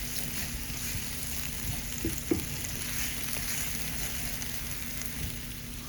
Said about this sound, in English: We're going to let these veggies saute until they are nice and soft.